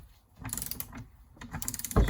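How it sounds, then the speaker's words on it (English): Close, faint ratcheting clicks from a torque wrench tightening a drive flange on a classic Mini, a short run of rapid clicks followed by a louder final thunk as the set torque is reached. "then you got your torque wrench"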